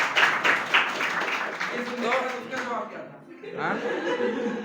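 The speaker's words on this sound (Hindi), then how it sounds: "तालियां बजाओ" A Hindi kavi sammelan poetry audience breaks into clapping mixed with chuckles and laughter, a lively burst that thins out partway through as a voice begins speaking.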